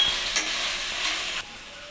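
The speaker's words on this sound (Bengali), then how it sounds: "এবার এটাকে আমি ভালো করে একটু নাড়িয়ে নেব" Tomato sauce and soy sauce are stirred in a pan for a rohu fish manchurian, giving a soft sizzle with scraping spoon strokes that drops quieter near the end.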